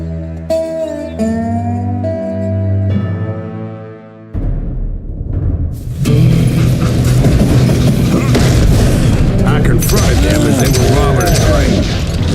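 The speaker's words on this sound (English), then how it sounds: "Bullets were flying at me from every which way." Gunfire in the Western shooter Call of Juarez: Gunslinger, dense, loud and continuous after a music-heavy opening, with shots and booms filling the second half and a game voice talking briefly early on.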